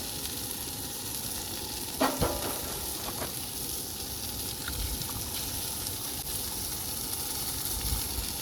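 Farm-fresh eggs fry in oil in a pan at an outdoor camp, giving a steady close sizzle throughout with a few brief clinks of a utensil near the start.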